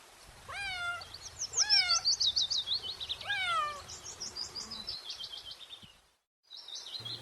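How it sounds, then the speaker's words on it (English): Several cat meows, rising and falling in a rhythmic series, layered over high chirping birdsong that continues throughout. "C for cat"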